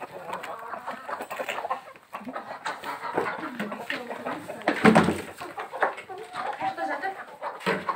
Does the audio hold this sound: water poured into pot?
no